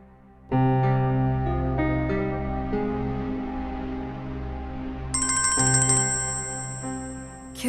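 Phone ringtone for an incoming call, a loud tonal melody that starts abruptly and repeats in stepped phrases, switching to a higher, brighter ringing pattern partway through.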